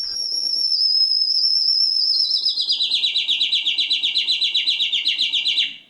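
Birdsong, performed as a bird-singer's whistled imitation, opens with a long clear sustained note and then breaks into a fast, even series of repeated chirping trills. It is close and bright, heard alone, and ends with a sudden drop.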